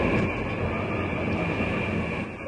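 Steady rumbling of a train rolling along the rails through Cambridgeshire, a continuous loud roar with rhythmic clatter from the wheels.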